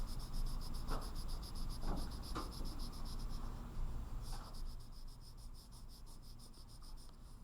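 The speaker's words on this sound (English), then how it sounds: "You press your color pencil a little bit more harder." Colored pencil scratching over paper during a zoomed-in pumpkin drawing, soft steady rasping strokes with a few firmer hits, faint and close under a constant high background hiss.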